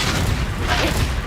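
Blasting-spell explosion from Confringo in Hogwarts Legacy, a heavy, close boom with crackling debris, loud and continuous through the brief moment.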